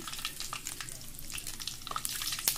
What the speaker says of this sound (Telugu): దాల్చిన చెక్క, లవంగాలు, సోంపు, ఎలాచి. ఇది కొద్దిగా బాగా ఫ్రై చేసుకుంటాం